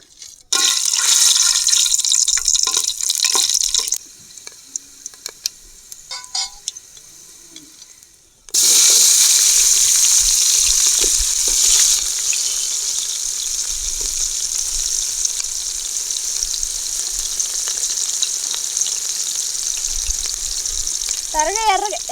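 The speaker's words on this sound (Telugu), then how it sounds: "దోరగా ఉడికే అదే నూనెలో బిర్యానీ మసాలా వేస్తున్నా" Biryani masala fries in hot oil in the pan for an egg biryani, a loud, steady sizzle that drops off briefly and then returns strongly, continuing near and unbroken.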